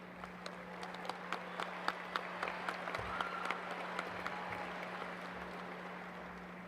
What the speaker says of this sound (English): Let's give a round of applause for all these talented musicians.